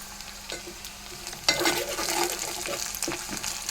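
Dried red chillies and curry leaves hit hot oil for a lentil rasam: light stirring taps, then a sudden louder crackling sizzle that continues steadily up close, with no voices.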